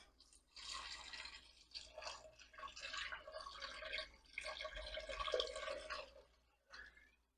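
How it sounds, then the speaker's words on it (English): Beef broth pours into a pot of soup holding browned hamburger, an irregular gurgling, splashing stream in uneven bursts with brief pauses, close and fairly quiet, with no talking. "now you want to pour in your beef broth"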